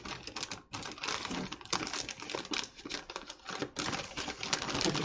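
Paper from a swap parcel is carefully unwrapped, giving dense crinkling and rustling in quick irregular bursts with short pauses, close to the microphone and heard alone.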